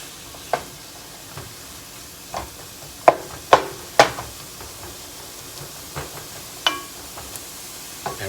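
Peppers, celery and onions sauté in a pan with a soft constant sizzle, broken by sharp scrapes and taps of a utensil stirring the vegetables at irregular intervals.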